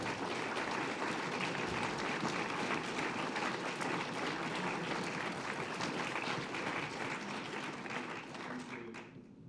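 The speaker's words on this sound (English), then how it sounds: "massive round of applause for these two, please." Audience applause at a film Q&A at Manchester Dancehouse, loud, dense clapping from a packed crowd that holds steady for several seconds and then quickly dies away.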